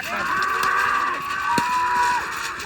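A bullock at a bullock cart race, a sustained low moo-like call over a busy outdoor rumble of the race crowd, with a brief sharp knock midway.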